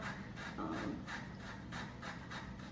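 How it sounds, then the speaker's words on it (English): Fresh coconut being shredded on a grater gives a close rhythmic rasping, about ten even strokes in quick succession, fairly quiet and with no voices. "you just want to hold the coconut, put a little pressure on it, and shred it"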